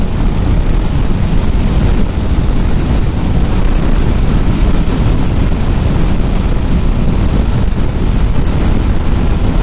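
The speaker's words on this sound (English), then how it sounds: "I can definitely hear the wind though, it's pretty loud." Heavy, roaring wind buffets the microphone on a 2024 Honda CBR650R motorcycle ridden at highway speed, a loud, constant broadband rush that buries everything else for the whole stretch.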